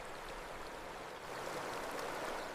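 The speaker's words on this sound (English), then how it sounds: "Flowing rivers mask other sounds completely." A flowing river stream gives a continuous, even rush of water with a fine bubbling texture. It sounds moderately near, with no voices over it.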